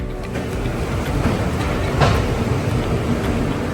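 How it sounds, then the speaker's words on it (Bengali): A passenger train leaves a station and gets under way, heard from inside as a steady low rumble with rhythmic clatter that swells slightly midway, with no speech. "ট্রেনটা ছাড়লো একটুখানি লেটে।"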